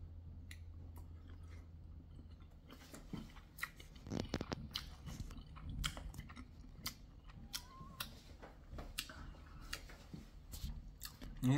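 Someone eats a meal of leftover menudo, fish, two eggs and pineapple, with soft irregular chewing and biting sounds close by over a low background hum and occasional clinks.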